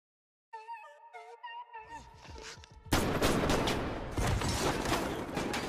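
A film action scene erupts into a dense burst of gunfire after a brief tonal musical passage, rapid loud shots rattling on continuously to the end.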